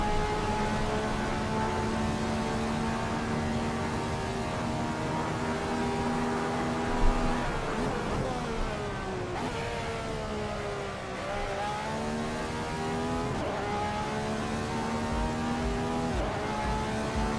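A race car engine in the racing game Assetto Corsa whines at high revs, pitch sweeping down and back up through gear changes and corners, steady and continuous without talk.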